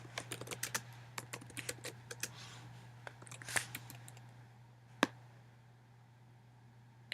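Keys clatter on a computer keyboard as captions are typed, a quick run of clicks at a moderate level followed by a sparse few taps and one sharp keystroke, over a steady low hum.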